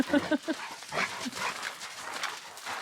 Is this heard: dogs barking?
yes